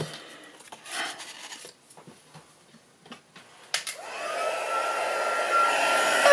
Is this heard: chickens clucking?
no